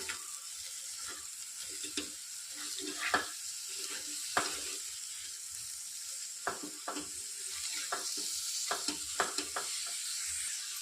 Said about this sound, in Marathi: आता त्यामध्ये आपण मटकी टाकूया. मिक्स करून घेऊ.